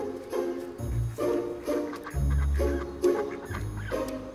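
Ducks raised by a surrogate cat quacking in a series of loud, close nasal calls, grouped into bursts of about four with short pauses between.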